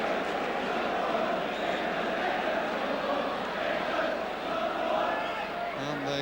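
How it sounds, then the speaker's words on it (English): Football stadium crowd at a Luton Town match roaring and chanting about goalkeeper Spink, a dense continuous swell of many voices at steady loudness, with a commentator's voice briefly at the end. "the cry from the crowd about Spink is England's #1"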